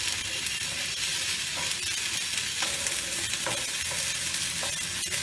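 Ginger hits a hot pan with a splash of water for egg lababdar, setting off a loud, continuous sizzle with occasional stirring scrapes close by.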